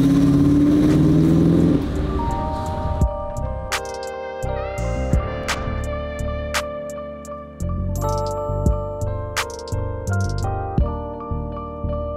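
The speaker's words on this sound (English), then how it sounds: "Zender sounds incredible. It feels tuned. This has to be a tuned engine." A tuned Mercedes-Benz M117 V8 drives past, its engine note rising through rhythmic revving, with a steady, fairly loud drone and repeated surges under a separate tonal layer of sound.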